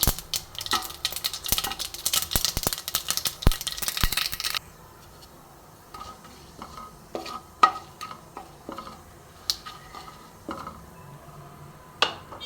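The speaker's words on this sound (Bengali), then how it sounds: "ফোড়নটা একটু ভালো মতন ভাজা হোক বন্ধুরা" Mustard seeds and dry chillies tempering in hot mustard oil. A loud, crackling burst of popping and spitting dies down into scattered pops and spoon clinks against the pan.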